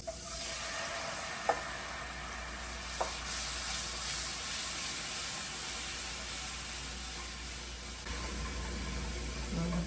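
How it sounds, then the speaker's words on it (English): Beef broth poured into a hot pan of cooked flour for gravy, giving a steady, even sizzle and hiss with a couple of faint clicks of a utensil against the pan. "Let's add our beef broth"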